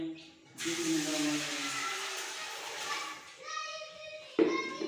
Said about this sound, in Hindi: सबसे पहले हम ये पानी डालेंगे, तकरीबन 1 जग पानी है।